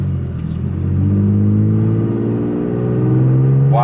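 A 3rd gen Toyota Tacoma fitted with a Pedal Commander pulls away and accelerates hard, its engine rising in a loud, steady climbing drone from inside the cab with no talking.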